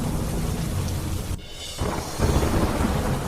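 Heavy rain pours down in Dahod, Gujarat, with loud rolling thunder, a dense steady hiss of rainfall under deep low rumbles that swell and fade.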